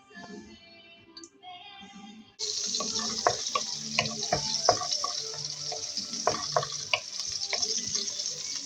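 Vegetables dropped into hot cooking oil burst into a loud steady sizzle with crackling pops, after a short quieter stretch of faint kitchen sounds.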